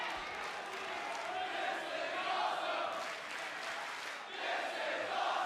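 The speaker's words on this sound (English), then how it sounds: "It's an appreciative crowd here in New York City." A crowd at a TNA Impact wrestling event at the Manhattan Center in New York City cheers and roars continuously under a commentator's voice.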